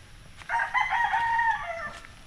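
A rooster crows once on a small farm, a loud, drawn-out call of about a second and a half standing alone over quiet outdoor background.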